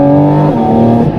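From inside the cabin of a Porsche 718 GT4 RS Weissach, its engine induction howls loud and close under acceleration, a sustained tonal note that dips briefly with a gear shift midway.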